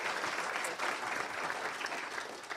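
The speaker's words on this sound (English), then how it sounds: "Let's give them a round of applause and make them feel welcome to the AMA." Audience at a minority health lunch-and-learn gives a round of applause welcoming the speakers, a steady, fairly quiet patter of many hands clapping throughout with no talk.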